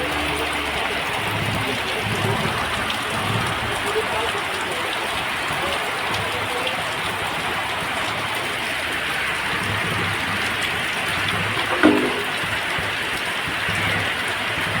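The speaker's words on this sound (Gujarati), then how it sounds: "એટલો વરસાદ પડ્યો છે." Heavy monsoon rain falls steadily in Bharuch, a dense, even hiss of downpour that lasts the whole stretch, with one brief knock near the end and no voices.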